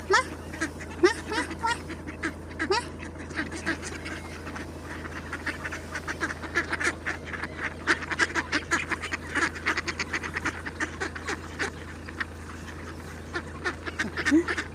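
Ducks quack repeatedly and busily at close range while being fed bread, with goose-like honks mixed in over a steady low hum; occasional faint voices sit in the background.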